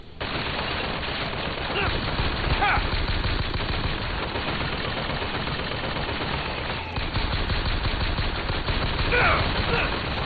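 Automated turret gunfire from the BioShock Infinite video game rattles continuously and loudly across the whole stretch, a dense, unbroken burst of rapid shots.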